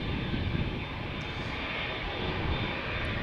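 An American Airlines Boeing 787 Dreamliner departs Amsterdam Schiphol, its jet engines giving a loud, steady roar that holds evenly from start to finish with no talking.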